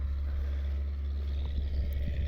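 An MTZ 82.1 tractor engine drones with a low, steady rumble close by, running loud and even with slight surges in revs.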